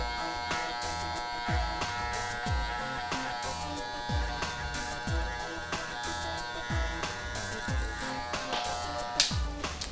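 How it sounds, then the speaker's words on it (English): Electric hair clippers buzz steadily at close range during a self-administered taper haircut, with repeated soft strokes and rhythmic pulses in the hum. "Use the corners of your clippers."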